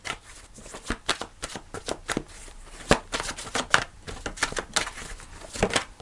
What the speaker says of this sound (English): Do one more shuffle.